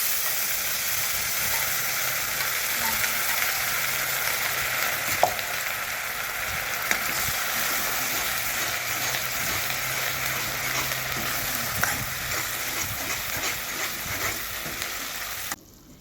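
Gravy goes into a pan of butter-fried cumin and mustard seeds and sets off a soft, continuous sizzle and hiss with a few faint clinks, lasting steadily until it stops near the end.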